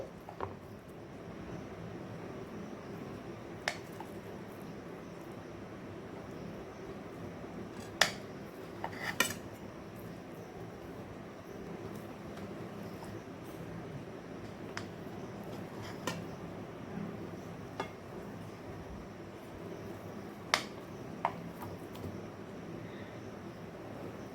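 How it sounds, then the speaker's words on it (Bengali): Knife slicing a block of paneer into pieces on a cutting board in a home kitchen, giving sparse, faint, irregular taps and clicks over a low steady room hum, with no talking. "যতটুকু লাগবে আমি ততটুকুই কেটে নেব পনিরের পিসগুলো"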